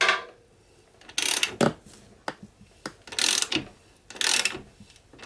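A chain adjuster on the rear wheel of a Honda 125 MTX motorcycle is tightened with a ratcheting tool, giving several close, loud bursts of clicking separated by short pauses and softer taps.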